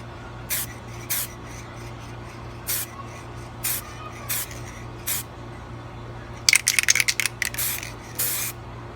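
Spray paint hisses from an aerosol can onto a custom Funko Pop vinyl figure in a series of short, evenly spaced bursts, then a quick flurry of rapid sprays near the end, over a steady low hum.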